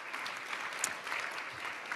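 Delegates in the UN ECOSOC chamber at a senior-level meeting give steady applause, somewhat distant and even, a continuous patter of many hands with no voices rising above it.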